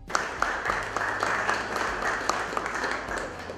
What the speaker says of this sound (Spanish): lo hacemos con un fuerte aplauso